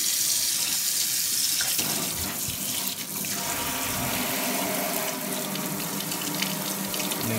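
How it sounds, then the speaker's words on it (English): Cold tap water runs steadily into a kitchen sink as thawed raw chicken is rinsed under it, a continuous close splashing rush with slight shifts as the flow hits the meat. "Since the chicken is already thawed out, you just want to rinse it out."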